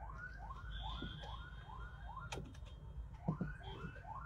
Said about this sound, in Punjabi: ਐਂਬੂਲੈਂਸ ਨੂੰ ਹਮੇਸ਼ਾ ਰਾਹ ਦਿਓ ਜੀ